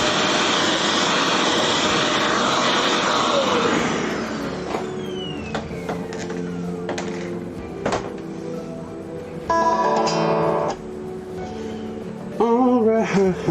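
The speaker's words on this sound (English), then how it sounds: "this is the HEPA vac" A HEPA-filter shop vacuum runs loud and steady while cleaning up during a Gibson 335 guitar setup, its broadband whine fading after a few seconds and giving way to quieter tool clicks and knocks.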